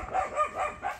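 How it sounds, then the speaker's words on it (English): A small dog barks repeatedly at a roadside home in the Philippines, several short yapping barks in a loose rhythm, fairly close and moderately loud. "everybody has a little dog here. It comes out and greets you for better or worse"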